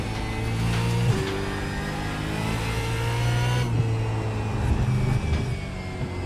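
Supercars race car on the Virginia International Raceway circuit in iRacing, its engine note holding steady and loud with gear changes and revving as it slows, heard alone without voices.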